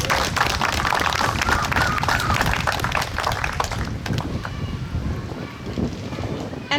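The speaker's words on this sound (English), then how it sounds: "A round of applause for Vivian," Wedding guests applaud at an outdoor beach ceremony on Balmoral Beach, a dense, steady round of clapping that carries loud and continuous, tapering slightly toward the end with some wind noise.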